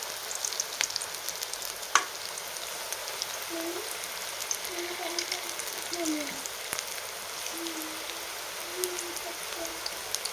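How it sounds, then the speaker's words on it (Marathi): Coriander bhaji fritters frying in very hot oil, kept over a low flame, giving a steady soft sizzle and crackle throughout with small bubbling pops and no talking. "जेवढे तेलात बसतील तेवढे आपल्याला भजी टाकायचे आहे."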